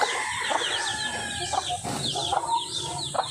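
Backyard chicken flock on a farm in the Philippines, with hens clucking steadily and roosters crowing in short repeated bursts, close and fairly loud against a constant outdoor din, no speech.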